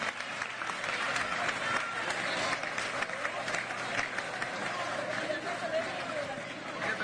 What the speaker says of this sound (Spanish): Un aplauso a estos compañeros